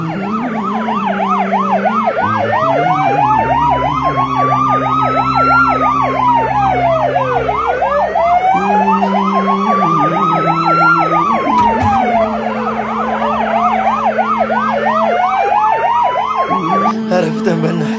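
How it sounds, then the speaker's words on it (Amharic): An ambulance siren wails loudly and continuously, its pitch sweeping up and down in repeated cycles over a rumbling road vehicle, with a fast warbling pattern layered beneath the slower wail. "ኧረ አምቡላንስ!"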